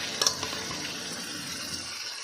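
Warm water poured into spices frying in a pan makes a brief hissing, bubbling rush with a few small splashes at the start, close and fairly quiet.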